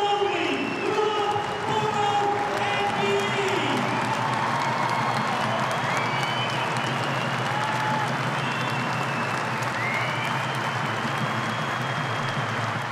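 A 10,000-strong stadium crowd at Headingley gives a sustained standing ovation, with loud continuous applause and cheering that fills the space evenly throughout.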